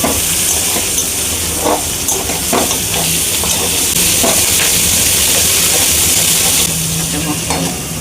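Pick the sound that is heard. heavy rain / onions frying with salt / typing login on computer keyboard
onions frying with salt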